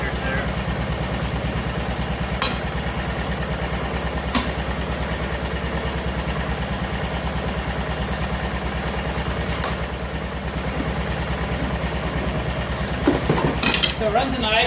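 A 1988 Club Car golf cart's gas engine, fitted with a new carburetor and fuel pump, idles steadily nearby with an even rhythmic putter, plus a few light clicks toward the end.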